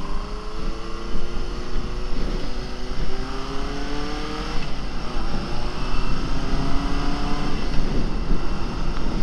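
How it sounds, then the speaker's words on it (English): A Honda CB750F inline-four motorcycle engine, built as a cafe racer, runs and pulls through gears, its smooth buzzing note rising in repeated climbs under steady wind rush, loud and close. "it's got the sound of inline 4"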